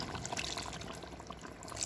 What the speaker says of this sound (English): I'm gonna pour in a little bit of my stock into it.